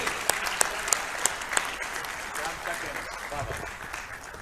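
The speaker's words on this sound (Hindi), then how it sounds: "आप सब लोगों की तालियों" Audience applause at an Urdu poetry mushaira in Houston, a steady crowd clapping with a few sharper claps near the start, fairly close and sustained throughout.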